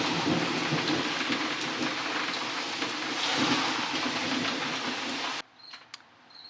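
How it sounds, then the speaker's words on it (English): Heavy rain pours steadily outdoors with a low rumble of thunder underneath, loud and continuous, then cuts off abruptly near the end, leaving near silence. "So the rain stopped enough for me to start working again"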